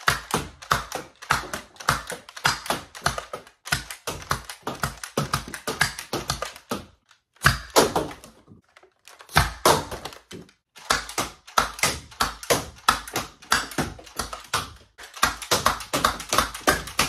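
A Nerf Hornet blaster pumped and fired over and over, sharp close pops and clacks in rapid, steady bursts, with one brief pause midway.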